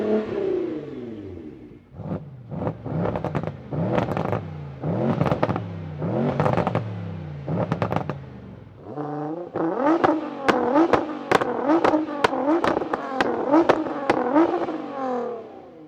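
A tuned 875 hp Mercedes E63S and two Nissan GT-Rs of 800 and 625 hp rev hard one after another, nearby and loud, in a series of sharp throttle blips that build into longer, rapid bursts.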